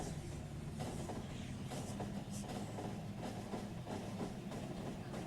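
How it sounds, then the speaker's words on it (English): A train rolls along in Factorio with a steady low rumbling drone and faint rhythmic clicking over the rails, heard close and continuous throughout. "Quick, get on that train."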